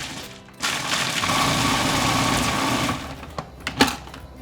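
A food processor whirs loudly for about two and a half seconds, chopping pine nuts, half a garlic clove and Parmigiano-Reggiano for Genovese pesto, then spins down to a few rattling knocks of the bowl and lid.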